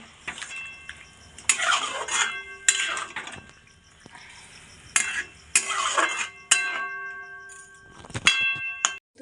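A ladle stirs chicken curry in a metal pot, scraping and clanking in bursts with ringing metallic clinks between, and the lid is set on with a final clatter; close and fairly loud.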